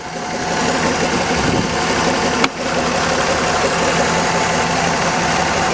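Datsun Z car engine idling steadily after a timing belt job, a close, continuous running drone with an even mechanical rhythm and one brief sharp click partway through.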